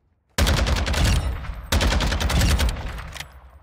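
Lachmann 762 battle rifle in MW2 fires full auto in a firing range, two loud, close bursts of rapid shots, the first about a second long and the second longer, with a short gap between them.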